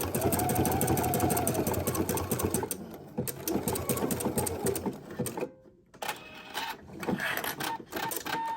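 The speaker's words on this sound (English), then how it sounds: "this is where you're going to use a zigzag stitch on this too." A sewing machine runs a zigzag stitch on a homemade wireless bra, a loud steady mechanical whir for about three seconds that stops and leaves quieter handling and scattered clicks.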